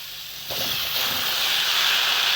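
Chopped tomatoes hit a hot pan of sautéing beetroot, and a soft background sizzle jumps to a loud, steady hiss that continues without talk.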